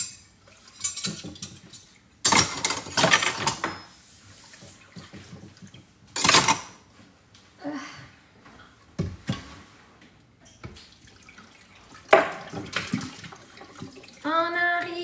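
Handwashing dishes under a running tap at a home sink brings bursts of water rushing and splashing, clinks of plates and utensils, and quieter gaps between, close and uneven in rhythm.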